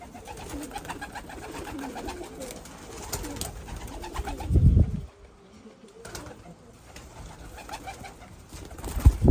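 Pigeons in a loft coo in low, rolling, overlapping calls close by, with a short lull midway before the cooing resumes.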